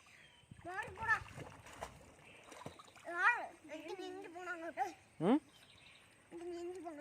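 Children call out and chatter while water splashes in short, irregular bursts nearby as children swim.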